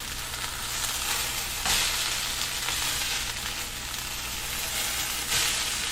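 Pepper, coriander and fenugreek powders sauté in a pan for chicken sambar, giving a continuous soft frying sizzle with occasional louder stirring swells, fairly quiet throughout.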